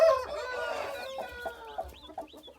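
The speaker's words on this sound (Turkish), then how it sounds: "Bu da çok değerli bir horoz." Aseel Shamo chickens and a rooster give a drawn-out crowing call followed by a string of short, close clucks that fade toward the end.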